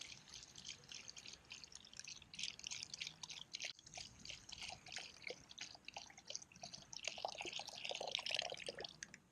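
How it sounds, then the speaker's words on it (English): Beef broth pours from a quart container into a stew pot, a faint continuous trickle and splash with scattered drips, heard close but quietly throughout. "I'm going to put here a quart of beef broth"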